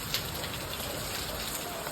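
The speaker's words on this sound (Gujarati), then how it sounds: "તો કેટલી ઘડી હવે વરસાદ આવે જોઈ" Rain falls in a steady, even wash of patter on nearby surfaces, brief and continuous with a single small tap early on.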